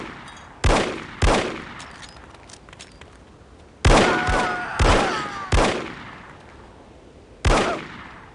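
Revolver gunshots from the video game No One Lives Forever: six sharp, loud reports spaced irregularly over several seconds, each with a short ringing decay, with no talking.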